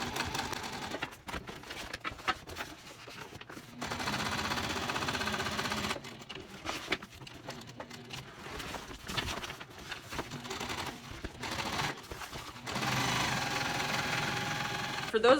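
A home sewing machine stitches a seam allowance open on a Wide Taisteal tote bag, its quick mechanical whirring running in several bursts separated by short pauses, fairly close and moderately loud.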